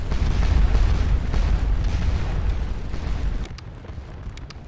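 Artillery fire on a Napoleonic Waterloo battlefield in the Scourge of War Waterloo video game rolls as a deep, sustained booming rumble, then drops off abruptly to a quieter background with a few faint sharp cracks.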